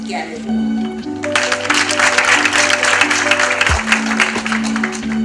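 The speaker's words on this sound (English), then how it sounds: "Another great round of applause for representative UNICEF to Botswana." An audience at a youth climate action conference in Botswana breaks into applause: a brief moment of voice, then sustained, fairly loud clapping over a faint steady hum, dropping slightly near the end.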